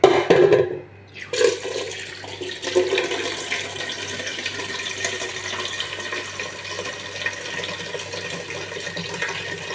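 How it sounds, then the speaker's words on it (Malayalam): Water poured out with a burst of splashing and gurgling at the start that settles into a softer, steady trickle and hiss. "വെള്ളം ഒഴിച്ചു നോക്കാം"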